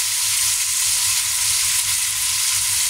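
Vegetables with taro sauté in a pan for a pakbet-style Filipino dish made without shrimp paste, a steady close sizzle and hiss that runs unbroken and fairly loud throughout, with no voices.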